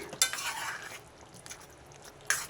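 Spoon stirring through drumstick egg curry in a pot with chopped coriander, soft scraping strokes framed by a couple of sharp metallic clinks at the start and end, close and unaccompanied by speech.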